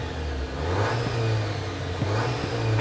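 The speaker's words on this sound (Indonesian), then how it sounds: "Suara 4 silinder turbo, benar-benar tidak ada gairah yang dikeluarkan oleh suara mesin Jeep ini." A Jeep Wrangler JL Rubicon's four-cylinder turbo engine revving up close, a steady mid-pitched drone that climbs and holds through short throttle blips, with no voices.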